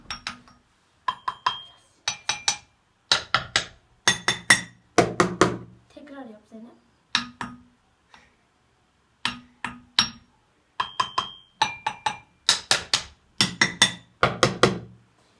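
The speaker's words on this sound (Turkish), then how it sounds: "İlk önce tahtayla vuracağız." A wooden spoon taps an object again and again in short bursts of sharp clinks and knocks, close and fairly loud, with brief talk between the strikes.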